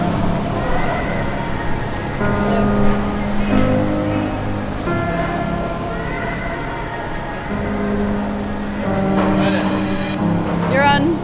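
Ocean waves wash steadily onto a beach at a ferry landing, a continuous surf under people talking and other busy dockside noise.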